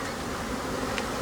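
Honey bees from a Flow Hive frame buzz loud and close in a dense, continuous drone as they are shaken off in front of the hive.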